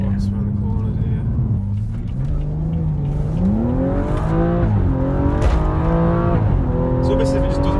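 A Stage 2 tuned BMW M135i accelerating hard, its engine note climbing through rising revs with gear changes, loud and close from inside the car while people talk over it.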